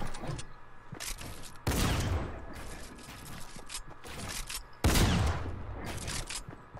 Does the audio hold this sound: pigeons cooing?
no